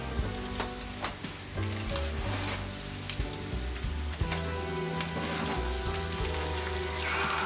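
A whole roast chicken, pulled from the oven after about two hours, sizzles steadily as its hot fat and drippings are spooned back over it, with a continuous crackle under background music.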